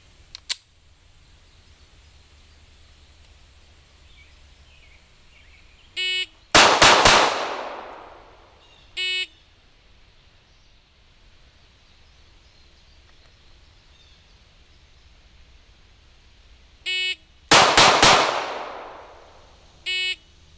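Springfield Hellcat handgun fired at 3 yards, with two separate loud sharp reports roughly ten seconds apart, each preceded and followed by a shot-timer's electronic beeps, in a quiet outdoor setting.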